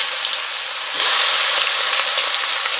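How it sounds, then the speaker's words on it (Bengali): Chopped onions dropped into hot oil in a wok where potatoes were just fried, giving a loud steady sizzle that jumps sharply louder partway through and stays strong. "এবার ওই কড়াইয়ের মধ্যে আলুটা ভাজা তেলের মধ্যেই কিন্তু এবার আমি পেঁয়াজ কুচি দিয়ে দেব"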